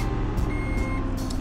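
Reversing beeps from a heavy truck in the Heavy Truck Simulator game on PC: a steady, loud repeating electronic tone with engine rumble beneath, no talking.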